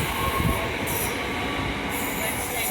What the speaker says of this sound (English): Next train arriving at platform 8 for your 11:37 CFO Road service to Sheffield.